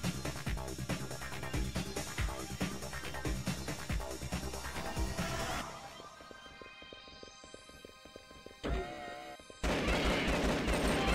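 Rapid pistol fire rattles in the top-down shooter Alien Shooter, loud repeated shots over game music and effects, pausing briefly before a heavy burst resumes.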